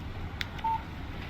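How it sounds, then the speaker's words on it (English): Text message alert on a phone in the Alan Wake Remastered video game: one brief, faint electronic beep tone over quiet background hiss. "Text message from Barry."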